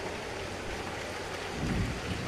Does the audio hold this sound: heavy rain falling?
yes